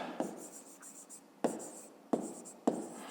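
A maths expression is written out by hand, soft scratching strokes broken by four sharp taps of the pen against the page, close and quiet with no voices.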